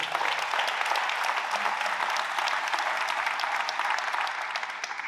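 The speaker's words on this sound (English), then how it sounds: "Let's give them all a big round of applause." Audience applause at a brigadier general promotion ceremony: a sustained, dense wash of clapping from a large crowd, steady and loud throughout, easing slightly at the end.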